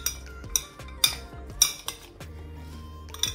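A metal spoon scrapes and clinks against a steel bowl while salted, slightly ripe mango pieces are mixed for a sadhya pickle, with sharp irregular clinks over a soft shuffling of fruit.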